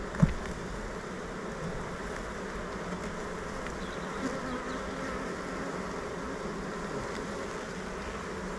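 A steady, dense buzzing of many honey bees in an open hive, continuous and droning throughout, heard close up with no voices.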